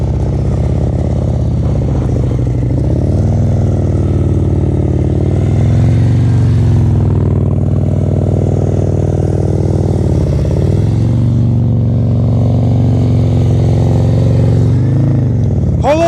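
A motorcycle rolling slowly through practice gates in the friction zone with light rear brake, its engine a steady loud low drone that rises and dips gently as it holds the turns, close to the rider.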